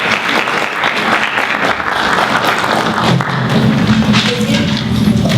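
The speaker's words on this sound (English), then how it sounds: "Now you can go ahead and clap." An orchestra concert audience applauds, a dense, loud wash of clapping that runs steadily from start to finish, with scattered thuds and low voices mixed underneath.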